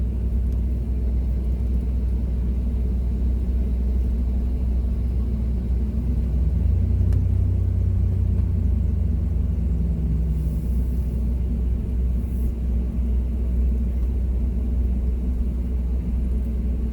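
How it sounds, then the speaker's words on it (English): A van on new tires driving slowly around a parking lot, giving a steady low engine rumble and road hum heard from inside the cab, with no talk. "I'll just take it over to this other place and drive it around the parking lot a minute."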